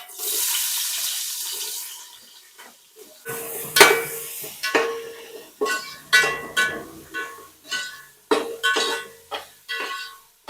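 Onions dropped into a pot and frying for chicken biryani, with a broad hiss at first, then a series of regular scraping stirs and clinks against the pot, close and moderately loud with no talking.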